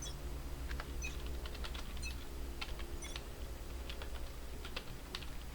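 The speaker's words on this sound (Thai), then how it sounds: "จะลองพิมพ์อะไรวะต้องพิมพ์อะไรแปลกๆแน่เนี่ย" Rapid clicking of keys on a computer keyboard during a cheap Valorant game session, steady irregular taps running throughout over a low constant background hum, with no talking.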